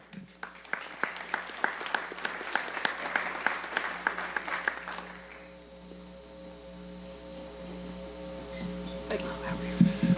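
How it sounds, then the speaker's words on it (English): An audience applauds graduates at a senior awards ceremony, a burst of clapping for about five seconds that fades, followed by quieter room sound and a voice near the end. "Round of applause for these great graduates."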